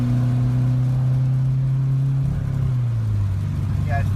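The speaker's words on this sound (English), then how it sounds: "It just like bogged out at almost 4 grand." A Dodge SRT4 engine in third gear drones loudly under throttle, then bogs out near 4000 rpm as its steady note wavers and drops, heard from inside the car with a voice speaking over it.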